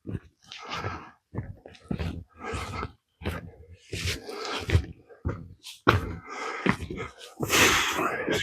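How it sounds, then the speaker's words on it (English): A hiker breathes heavily while climbing a trail, giving a run of close, loud, uneven panting breaths and gasps right at the microphone. "Excuse my heavy breathing."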